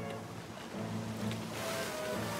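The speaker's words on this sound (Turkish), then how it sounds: "Dalgalar kocaman olmaya başladı." Big crashing ocean waves in a Fireman Sam cartoon, a continuous broad roar of rough surf with churning water swelling steadily louder over a couple of seconds.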